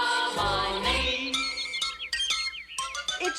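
Bird chirps and tweets sound in a calm countryside setting, mixed into a musical song with quick repeated high calls over the melody.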